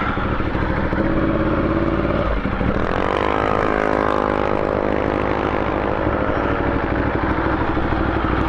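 A Ducati Diavel motorcycle in touring mode with traction control, ridden on the road with a 14-tooth front sprocket, its loud engine droning steadily, briefly dipping as a gear change comes, then pulling again with a rising note under wind rush.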